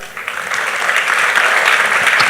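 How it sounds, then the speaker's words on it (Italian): Audience applause at a political assembly in Padova, welcoming visiting German comrades; dense, steady clapping from a hall full of people, swelling slightly and holding loud throughout without voices. "accogliere con un intervento davvero di benvenuto e un applauso ai compagni di L che sono qui"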